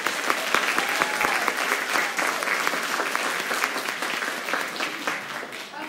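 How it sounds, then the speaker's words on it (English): An audience at an educational tour event in Tennessee gives a sustained round of applause, many hands clapping together, full and steady before slowly tapering. "Let's give them a round of applause."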